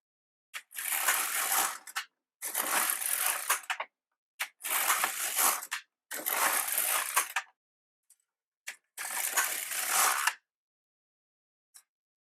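A knitting machine carriage is pushed across the needle bed to knit a cast-on row. It makes five rough, rasping sweeps of about a second each, separated by short silences and a few faint clicks, heard up close and alone.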